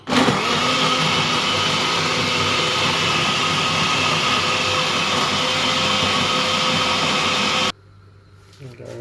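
A juicer or blender motor runs while juice is made from chia seeds and raisins, a loud steady whirring drone that holds constant for several seconds and then cuts off abruptly, leaving a quiet tail.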